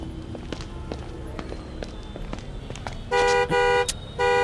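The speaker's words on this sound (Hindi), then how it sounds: "क्यों हॉर्न बजा रहा है?" A car horn blares in two long honks followed by a third, loud and close, after a stretch of street noise with footsteps and traffic.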